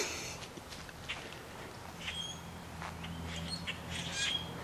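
A flock of blackbirds squawks and chirps from a tree in a burst of overlapping, fairly close calls, with faint rustling or footsteps underneath and no speech.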